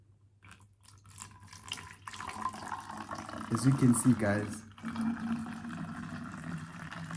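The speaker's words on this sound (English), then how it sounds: "we are pouring and pouring and pouring and pouring" Liquid pours from a container into a larger 500 ml cup, building to a louder, splashing stream before it steadies. Someone talks softly at the start of the pour.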